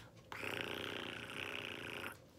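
A person imitates a cat's purr with a soft, continuous rumbling breath lasting about two seconds, heard up close.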